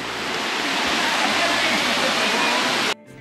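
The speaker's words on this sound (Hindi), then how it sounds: "पहुंच गए हैं जहाँ पे वाटरफॉल है।" Padghe waterfall near Boisar gives a loud, steady rush of falling water close by, a dense unbroken roar that cuts off abruptly near the end.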